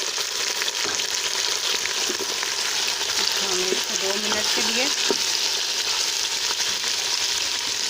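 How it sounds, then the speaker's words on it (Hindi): Chicken pieces with browned onions and garlic-ginger sizzle steadily in a pan, a constant close frying crackle with occasional spoon scrapes as they are stirred, while someone talks over it. "और फिर इसमें चम्मच चलाते हैं आहिस्ता से ताकि चिकन फ्राई हो जाए अच्छी तरह से"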